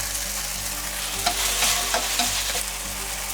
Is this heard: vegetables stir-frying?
yes